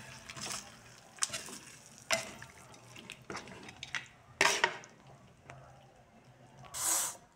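Goat adobo is stirred in a pan, with soft scraping, clinks and wet squishing sounds that come at irregular intervals and stay faint.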